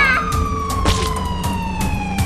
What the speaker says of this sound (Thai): ผู้คุมหัวไซเรนมา